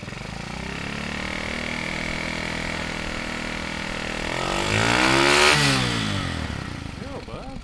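A 110cc pit bike engine fitted to a go kart, with a fuel delivery problem, runs steadily close by, then revs up sharply to a loud peak and drops back down.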